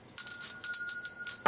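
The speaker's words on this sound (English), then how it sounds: "Hold on. I'm ringing the bell." A small bell rung rapidly several times in quick succession, bright ringing tones close and loud, ending with a clatter.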